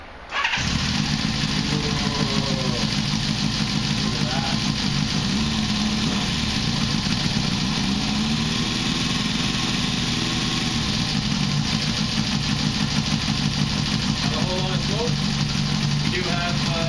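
A rebuilt 1973 Honda CB500 cafe motorcycle engine fires up and settles into a steady, loud, close idle that runs on throughout with a continuous throbbing rumble.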